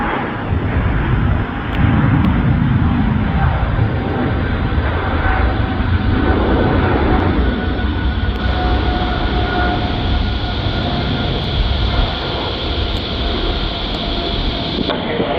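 A large airliner takes off from runway 15 right at Incheon Airport with a continuous loud, broad jet roar that swells and holds for the whole stretch.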